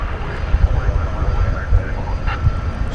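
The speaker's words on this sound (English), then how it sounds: "Here goes an Airbus A300." An Airbus A300 passes at DFW Airport at night, a broad steady roar of jet engines with low rumble throughout, heard from a spotting position at moderate distance.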